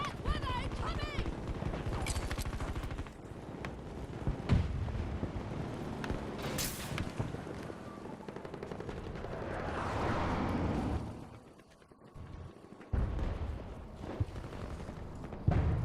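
A grenade explodes amid rattling gunfire in a beta-test shooter game. Dense, loud bursts of shots and booms run almost throughout, briefly dropping away before firing resumes, and voices shout over the action.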